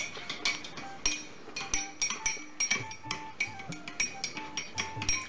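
A spoon stirring golden milk in a cup, clinking steadily against the sides in a quick repeating rhythm, bright and close with no voices.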